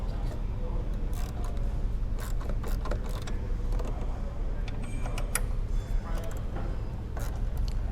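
A long quarter-inch ratchet with an extension and 13mm socket loosens the bracket bolts on an Mk6 VW Golf GTI, giving repeated close clicks over a steady background hum.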